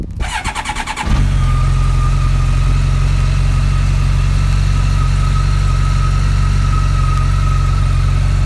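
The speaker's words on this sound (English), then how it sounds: "we're gonna have to start the bike up" A motorcycle engine cranks over for about a second, catches, and settles into a steady, loud, continuous idle that runs alone to the end, close to the microphone.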